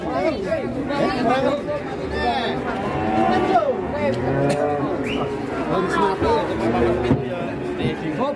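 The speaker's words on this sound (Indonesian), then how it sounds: "Sapi raksasa pagi ini" Large cattle moo repeatedly amid a busy morning crowd, with overlapping lowing calls and lots of people chattering nearby.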